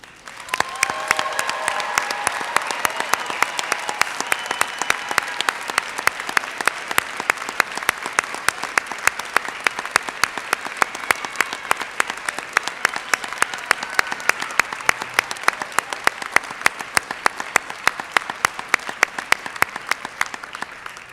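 Dense, sustained audience applause fills a fall 2021 university commencement hall for the new graduates, loud and unbroken for about twenty seconds, with crowd noise mixed in and no speech.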